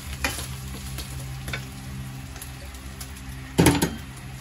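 Oil sizzles close up in a pan while a pork omelette cooks, a steady hiss broken by brief spatters and one louder crackling burst near the end.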